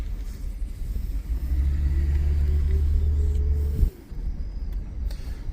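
A 2007 Ford Crown Victoria drives slowly around a parking lot. Its engine gives a close, steady low rumble that builds a little and then cuts off sharply, leaving quieter background noise.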